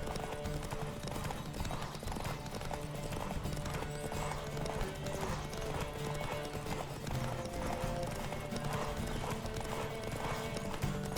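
Horse hooves pound in a steady galloping race in The Witcher 3, a rapid continuous clip-clop rhythm held at a constant loud level under game music and ambience for the whole stretch, with no voices.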